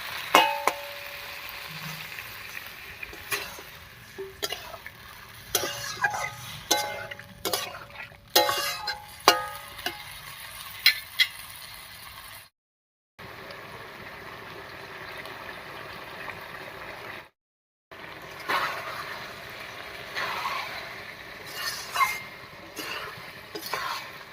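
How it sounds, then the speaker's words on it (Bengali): Snakehead fish stir-fried with spice paste and water in a pan, steady sizzling under repeated scraping and clanking of a spatula against the pan, close, with two brief silent gaps. "এবারে মশলা বাটা জল দিয়ে খুব ভালো করে কষিয়ে নেবো"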